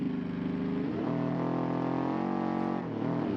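A boxer-engine car in the BeamNG driving game, a steady, buzzing engine drone that rises as it revs through the middle, dips briefly, then climbs again, loud and close with no voices.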